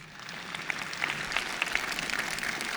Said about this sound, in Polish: poproszę o brawa dla niej